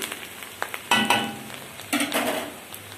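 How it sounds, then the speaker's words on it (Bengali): Chopped onions frying in a pan with dried chillies and bay leaves for ghugni, a soft steady sizzle broken by a few louder bursts of stirring and scraping, close by with no talk. "এরপর পেঁয়াজ কুচি দিয়ে দিলাম। পেঁয়াজ আমি ভালো করে দেখুন ভেজে নিলাম।"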